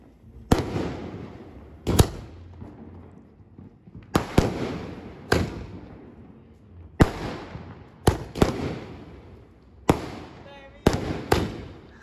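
Diwali firecrackers burst in a series of sharp, loud bangs, about ten over twelve seconds, some in quick pairs, each followed by a short echoing decay, with faint voices between the blasts.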